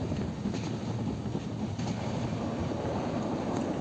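A passenger train heading toward Bhanga runs along the rails, giving a steady, fairly quiet rumble and rushing noise with no distinct clacks, heard from inside with no talking.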